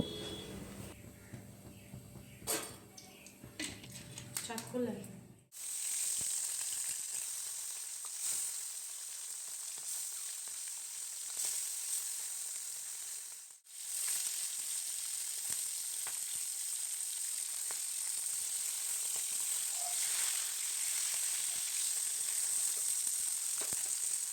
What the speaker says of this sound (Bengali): এবার কড়াই চাপিয়ে কড়াইয়ের মধ্যে তেল গরম করে মাছগুলোকে সব ভেজে নেব